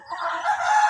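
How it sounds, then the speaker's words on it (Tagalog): A chicken gives a short, drawn-out call up close, loud and raspy, with no talking. "Iyang mga manok, oh."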